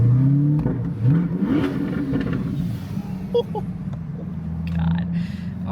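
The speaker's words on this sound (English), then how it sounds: "you guys have not heard the car too much ever since I got the exhaust put on it" A car with an aftermarket exhaust revs hard nearby, rising and falling in pitch through several pulls, then settles into crackling, burbling idle with sharp pops, loud and close throughout.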